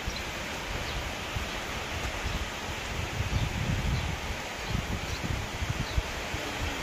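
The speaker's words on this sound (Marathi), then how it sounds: "आता पत्रात जास्त आवाज यायला लागला का पावसाचा" Rain drums on a metal sheet roof in a thick, constant hiss. It swells to a heavier, rougher patch midway, then holds at a steady, fairly loud level with no voices.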